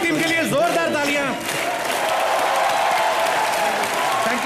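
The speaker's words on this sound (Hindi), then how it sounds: "एक बार पूरी टीम के लिए जोरदार तालियां।" A studio audience on a comedy show applauds the film team, steady loud clapping and crowd noise throughout, with someone talking over it in the first second or so.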